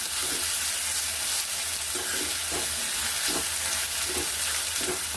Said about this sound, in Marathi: बघा हा कांदा मी फ्राय करून घेते आता चांगला, जरा फ्राय होऊ द्या कांद्याला.